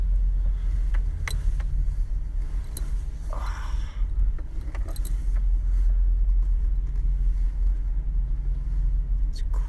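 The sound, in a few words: 15-passenger van driving through a parking garage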